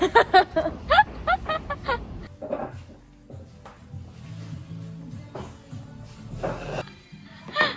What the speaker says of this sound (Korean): 부산 갈매기